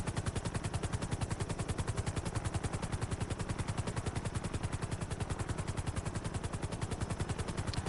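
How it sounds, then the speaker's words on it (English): Rapid, continuous Tommy gun fire in GTA Online rattles out as an unbroken string of evenly spaced shots, loud and relentless, lasting the whole stretch without pause. "He's gonna shoot at people with a Tommy gun."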